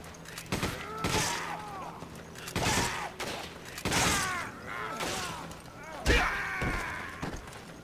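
Gunfire in the video game Resident Evil 5 cracks out in several separate bursts, roughly one every second or two, loud and close, with the game's other effects ringing between shots.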